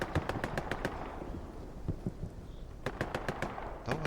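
Rapid bursts of video game gunfire in a competitive match, two clusters of sharp cracking shots at the start and end separated by a quieter stretch of scattered single reports.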